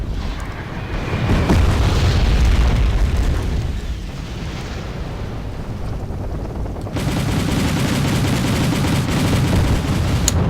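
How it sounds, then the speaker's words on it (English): Continuous heavy artillery bombardment in the Wargame European Escalation video game: loud, dense rolling booms and rapid gunfire blasts blending into a sustained roar, growing harsher and fuller partway through, with no talking. "And then he starts bombarding us with artillery."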